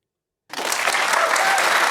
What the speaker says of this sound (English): Why Pastor clapping with so much conviction?